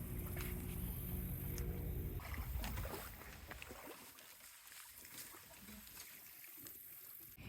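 Small sailboat, a 14-foot offshore mini-cruiser, sliding off its trailer into the water at a boat ramp, heard as low rumbling and splashing that gives way to quieter lapping and trickling water.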